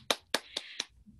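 Four sparse, separate hand claps from participants unmuted on an online call, quiet and evenly spaced, with near silence between them.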